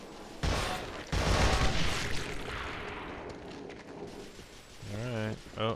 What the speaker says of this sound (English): they're shooting at those things right now